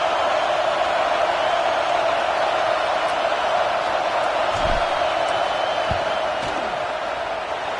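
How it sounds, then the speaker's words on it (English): Stadium crowd noise in the College Football 26 video game as a field goal unit lines up against Tennessee: a steady, loud roar of the crowd throughout, with a few brief thumps and shouts rising out of it. "This crowd trying to do its part to get inside the kicker's head."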